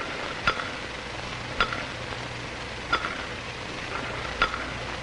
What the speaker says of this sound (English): I can stir my tea so as to cause a circular motion.